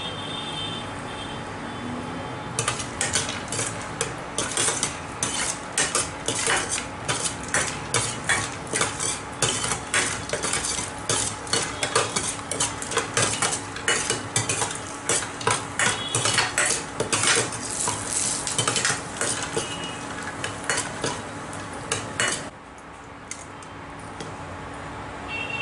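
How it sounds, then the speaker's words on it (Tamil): Sundakkai vathal (dried turkey berries) fry in oil in a pan for village-style vatha kuzhambu, with a constant sizzle under rapid, clinking metal stirring and scraping that stops near the end. "இந்த எண்ணெய் நல்லா காஞ்சதும் நம்ம இந்த சுண்ட வத்தலை கொஞ்சம் பொரிச்சு எடுத்துக்கணும்"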